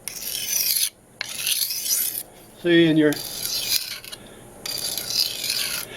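Several bursts of rasping, scraping strokes, a steel knife grinding against a freshly dressed whetstone in uneven passes, with a brief spoken moment in the middle.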